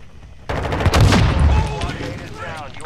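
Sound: grenade launcher (RGL) shots in a video game

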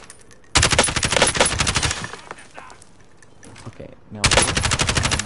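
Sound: nail gun firing in the video game Fortnite

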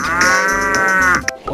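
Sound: cow mooing from a toy cow

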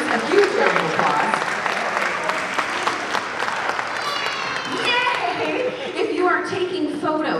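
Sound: jazz festival audience applause

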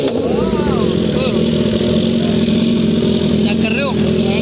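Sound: Kawasaki ZX-10R superbike engine revving

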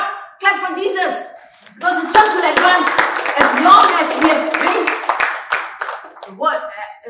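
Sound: congregation clapping hands

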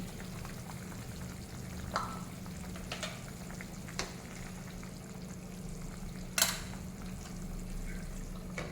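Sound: vegetable fish broth boiling, fried cauliflower added

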